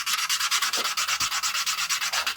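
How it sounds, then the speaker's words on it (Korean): Quick, rhythmic strokes of sandpaper rub back and forth over a leather card wallet's cut edge, a dry scratchy hiss repeating evenly about eight times a second. "하시기 전에 사포질 작업을 먼저 할게요."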